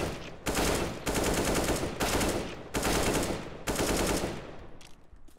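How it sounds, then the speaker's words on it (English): Updated CS:GO rifle sounds, four bursts of rapid automatic gunfire from the video game, each roughly a second long and separated by brief gaps, loud and close with no talking. "So they updated all the rifle sounds."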